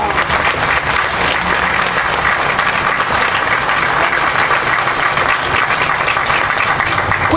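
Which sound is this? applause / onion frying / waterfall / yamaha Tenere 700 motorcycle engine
applause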